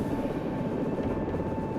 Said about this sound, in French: avec 5 personnes de plus à bord, l'hélico est très lourd